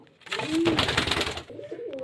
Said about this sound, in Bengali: এই এক পেয়ার কালশিরা পায়রা, দেখতে পাচ্ছেন।